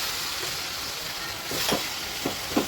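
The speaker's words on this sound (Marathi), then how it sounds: "आता मसाले जळून थोडं पाणी टाकूया." Water splashed into masala frying in a pan for restaurant-style pav bhaji hisses loudly and steadily, with a few louder spitting bursts near the end.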